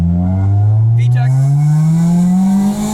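A 2003 Honda Civic EX coupe with a manual gearbox and aftermarket exhaust revs hard into VTEC, its loud, close engine note climbing steadily in pitch over three seconds, heard from inside the cabin.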